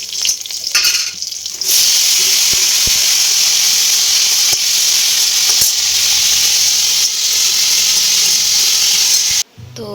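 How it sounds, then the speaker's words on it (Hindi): Fenugreek and potato (methi aloo) frying in hot oil in a pan, a loud, steady sizzle that rises suddenly and keeps going for several seconds, with faint stirring clinks and no voices. "तो बस इसीलिए मैंने मेथी आलू छोक दी।"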